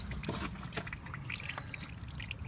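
Water drips and trickles from a leaking hot tub end cap, a faint, irregular patter of small drops close by over a steady background hiss, with no talking.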